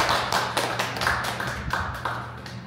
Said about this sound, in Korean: 그런 믿는 의미로 한 번 더 박수 쳐드리겠습니다.